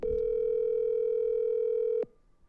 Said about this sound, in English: We are calling Tara